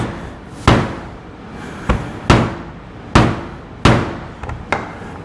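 Five sharp, loud hammer whacks on a hole punch cutting through gasket material, irregularly spaced with short ringing decays, plus a few lighter taps near the end, in a workshop.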